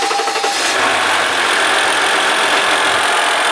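A 2016 Dodge Ram 1500 EcoDiesel engine with its turbo running close up, giving a steady, loud, broadband roar with a rough diesel clatter and turbo hiss, continuous throughout with no talking.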